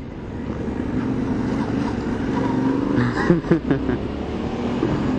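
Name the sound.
Yamaha Ténéré 700 motorcycle riding off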